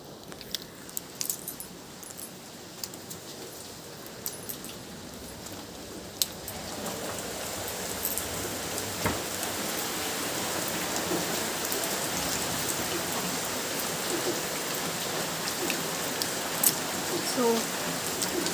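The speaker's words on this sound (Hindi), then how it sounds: "बहुत ही बारिश हो रहा है।" Heavy rain pours steadily outdoors, a dense continuous hiss that holds through the whole stretch, with a few small clinks and taps near the start and no voices.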